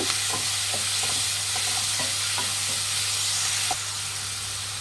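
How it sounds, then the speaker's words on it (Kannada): Onion and tomato fry in a pan for lima bean upma, giving a steady, close sizzle with regular stirring taps and scrapes throughout. No one speaks. "ಚೆನ್ನಾಗಿ ಫ್ರೈ ಆಗಬೇಕು ಈರುಳ್ಳಿ ಟೊಮೆಟೊ ಎಲ್ಲ"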